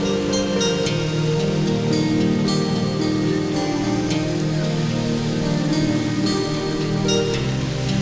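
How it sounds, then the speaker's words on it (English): Thunderous Indian Ocean waves crash around steep rocks, a loud, continuous roar of surf and churning water with no pauses and no voices. "Thunderous waves throw themselves around steep rocks"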